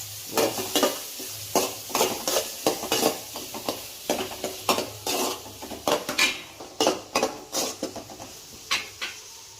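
Onion frying in a pan while being stirred: repeated clattering scrapes of a spoon against the pan in a brisk, uneven rhythm over a constant sizzle, close and fairly loud, with no talking.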